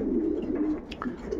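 Racing pigeons coo softly in a loft, a steady low murmuring of several birds with a brief higher call near the middle, close by and without talk.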